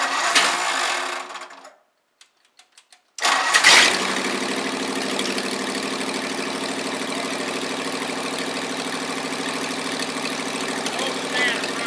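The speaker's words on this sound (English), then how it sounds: "we're going to fire up the red flathead" A red flathead engine cranks briefly, falls silent for about a second, then catches and runs at a steady, loud idle that continues to the end, with faint voices under it.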